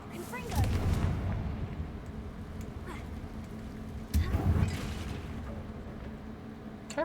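Confringo fire spells blasting a bridge in the video game Hogwarts Legacy: two deep booming explosions a few seconds apart, each with a crackling rumble that trails off, over continuous game background sound.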